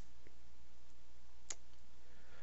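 A single soft mouse click while working in Autodesk Inventor 2015, faint and isolated against a quiet background hum.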